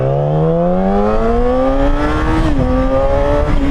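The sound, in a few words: Yamaha R6 motorcycle accelerating with throttle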